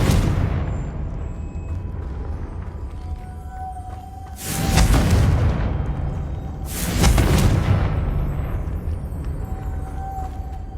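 Two heavy magical blasts from the Confringo spell in the Hogwarts Legacy video game, each a loud booming burst a couple of seconds apart over a steady game ambience.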